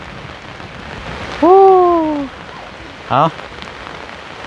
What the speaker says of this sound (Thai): ฟ้าฝนตกลงมาแล้วก็ควันไฟเฮ็ดอยู่เฮ็ดกิน